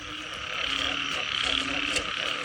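Frogs croaking in a rice paddy, a dense rapid chorus of trilling croaks, steady and close, with a continuous high insect hum behind them.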